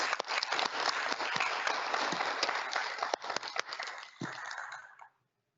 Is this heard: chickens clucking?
no